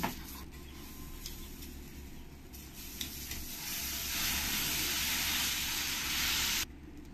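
Oil sizzles steadily on a hot dosa tawa as it is spread across the surface, a continuous broadband hiss that swells louder toward the end before cutting back abruptly, with no voices.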